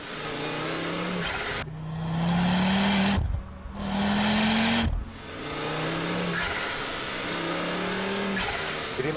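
An RS sports car engine revving hard while accelerating, loud and close, with steady rising engine tones broken by brief gear-change dips.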